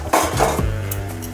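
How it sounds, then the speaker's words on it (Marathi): A metal lid is lifted off a kadhai of semolina sheera cooking in ghee, giving a sharp clank and a brief rattle of metal, followed by a low, steady hum from the pan. "आता आपण झाकण काढूया।"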